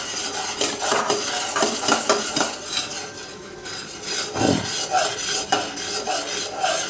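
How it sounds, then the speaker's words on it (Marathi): A spoon scrapes and stirs crunchy sev through thick sugar syrup in a metal pan off the heat, in close, rhythmic strokes with clinks against the pan; no talking. "शेव ॲड करून मिक्स करू शकता"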